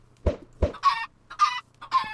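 Chickens in a video game cluck in three short, squawking bursts at a steady rhythm, close and clear, after a couple of lower thumps.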